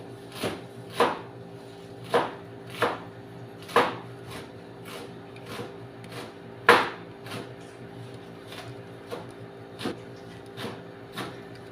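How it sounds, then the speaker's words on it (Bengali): Steady knife chops through leafy greens on a cutting board as they are prepared for frying, about a dozen evenly spaced strikes close up over a constant low hum. "শাকটি ভাজি করার জন্য কুচাইতে হবে।"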